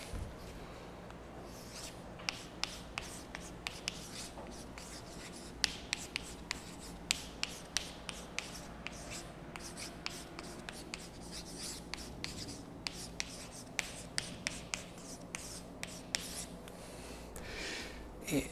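Chalk or marker tapping and scratching on a board during a university calculus lecture, a steady run of sharp strokes and taps across the whole stretch, fairly close and with no talk over it.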